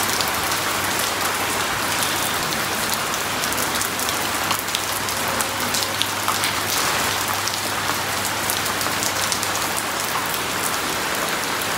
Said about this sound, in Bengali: বাইরে বৃষ্টি হইতাছে